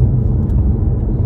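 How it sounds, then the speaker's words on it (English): A Ford Mustang being driven, a steady low engine rumble heard from inside the car, continuous and fairly loud with no talking. "I'm driving my Mustang this morning"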